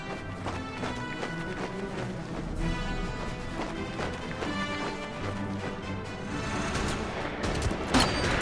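Anti-tank gun fire and impacts in the Order of Battle war game, Burma Road battle at Imphal 1944: a dense run of sharp cracks and crashing hits over a steady battle din, with no talking.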